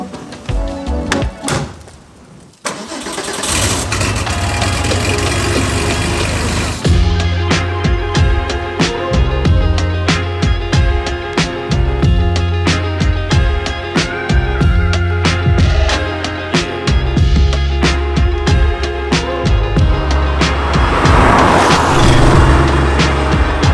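A Sportec Porsche 964 Classic backdate restomod runs under way, its engine loud and close with a steady, rhythmic drone after a brief quieter opening, and no talking.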